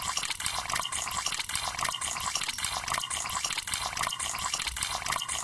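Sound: water washing off blood in video game Misao

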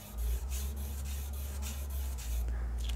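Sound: barbecue charcoal rubbing on paper while drawing

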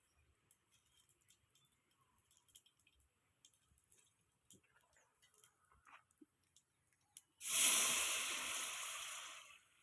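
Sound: water being poured in

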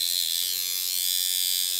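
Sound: tattoo machine running on passive setting

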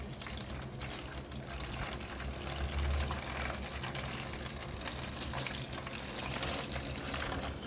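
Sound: pouring salty brine water into a jerrycan

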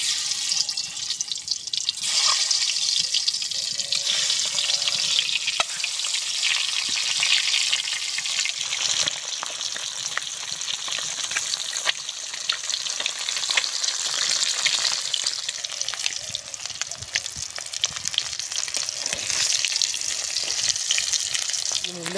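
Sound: eggs frying in hot oil

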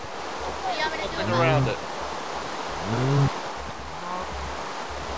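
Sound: water flowing in Minecraft video game

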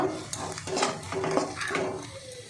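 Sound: stirring amchur powder into capsicum filling in a pan

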